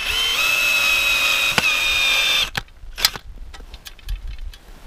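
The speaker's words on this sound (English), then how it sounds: "Get our drill and we'll get this one fixed." A power drill whines steadily at a cabin on a snowy work day as a broken box is repaired, the motor pitch shifting slightly before it stops, followed by scattered clicks and knocks of handling.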